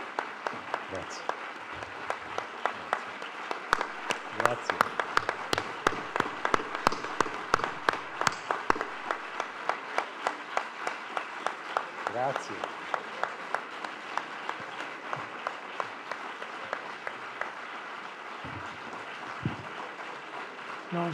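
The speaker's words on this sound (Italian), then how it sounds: "questo applauso dopo le cose che ci ha raccontato" An audience applauds after a talk, with dense clapping that thins into scattered, separate claps and fades, while murmured voices carry on beneath.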